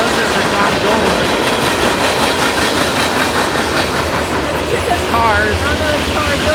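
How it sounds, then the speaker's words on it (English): A freight train rumbles past close by, loud and continuous, with wheels clattering and metallic squeals rising near the end. "And that was the train."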